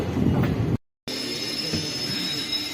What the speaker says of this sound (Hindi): गाइस हमारी ट्रेन रुक चुकी है नो हॉल्ट स्टेशन पे सोमेश्वरा, जो कि पड़ता है कर्नाटका में।